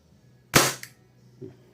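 Single sharp crack of a short-stroked WE G17 gas airsoft pistol fired during a chronograph test, close and loud, followed by a faint click.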